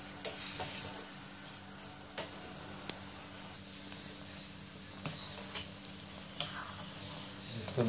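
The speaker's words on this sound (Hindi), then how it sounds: "मस्त बॉयल हो रहा है, अभी 2-3 मिनट में पक जाएगा" Pasta boils in a pot of water for an Indian-style masala pasta, a low steady bubbling with scattered light clicks and taps throughout.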